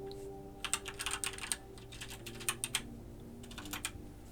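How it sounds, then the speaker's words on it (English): Quiet, close clicking of a computer keyboard as a tweet is typed, with quick bursts of keystrokes separated by short pauses and no talk over it. "typing a tweet is really loud."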